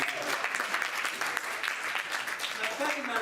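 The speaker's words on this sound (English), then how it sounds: "A round of applause for each." Steady, dense round of audience applause at a mentalist's university homecoming show, sustained and fairly loud for the whole stretch, with voices mixed into the clapping.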